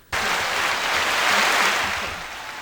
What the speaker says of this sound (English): Who wants to give me a round of applause first?